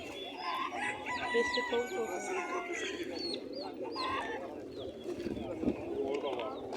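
Roosters crow and hens cluck in a busy poultry area, with people talking in the background.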